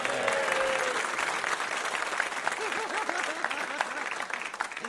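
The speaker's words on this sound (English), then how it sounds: "the audience will only applaud if you give them a point" Studio audience applause during a comedy quiz show, a dense burst of clapping that carries on steadily, moderately loud, with a faint voice underneath.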